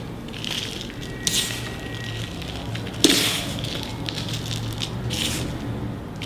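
Soil and compost being mixed by hand for a pot, a steady gritty rustling and crunching with a few sharper scrapes along the way.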